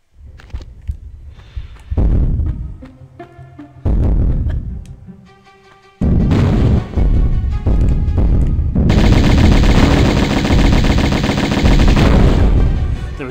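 Dual Uzis fire rapid, loud bursts during the Atlantis boss fight in Tomb Raider 1 Remastered, with short sparse volleys at first building into dense, continuous automatic fire and no talk.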